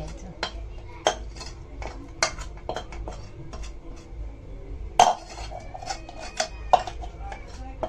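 Dough is poured into a metal parat plate among pans, with scattered metallic clinks, scrapes and clanks at irregular intervals, close and sharp.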